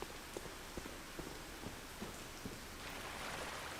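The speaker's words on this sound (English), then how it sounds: "It's beautiful to sit here and watch the rain." Heavy rain pelts down outside as a steady, soft hiss, broken by a series of faint, regularly spaced thuds.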